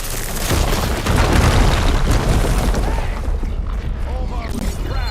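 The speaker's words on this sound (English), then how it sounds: "An explosion." A loud explosion in the video game Horizon Forbidden West, a heavy sustained boom with deep rumbling that fills the scene and slowly tails off, with faint voices near the end.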